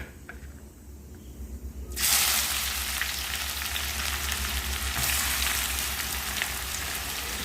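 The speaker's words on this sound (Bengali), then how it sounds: "পেঁয়াজটা ভাজা ভাজা হবে।" Chopped onions dropped into hot oil with dry red chilli, cinnamon, cloves and cardamom: a quiet start, then a sudden loud sizzle that stays strong and steady, close to the pan.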